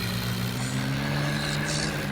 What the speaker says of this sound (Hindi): ये मेरा ट्रैक्टर फुल ऑफ रोडिंग कर रहा है।